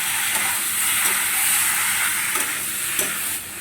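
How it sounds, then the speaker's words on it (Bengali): Pasta drops into a pan of fried onions and sizzles in a steady frying hiss, with a few stirring scrapes and clinks before the sound eases off at the end. "এবারে পাস্তাটা আমি দিয়ে দিচ্ছি।"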